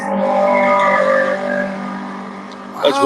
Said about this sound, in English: Formula One. That was Ragnar riding by.